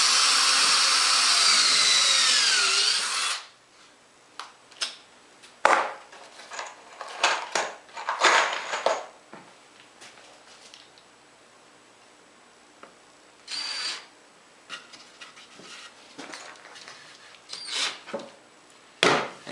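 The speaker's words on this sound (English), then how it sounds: "Now what I want to do is pre-drill for a couple screws right in the front" A power drill pre-drills screw holes into wood for an Adirondack chair front support, starting with a loud continuous whir for about three seconds, followed by sporadic short bursts, knocks and handling noises at close range.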